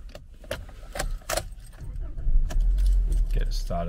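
A 2022 Toyota Corolla with 592 kilometres on it is started, with keys jangling first and a low engine rumble swelling and settling into a steady idle near the end, while a person talks.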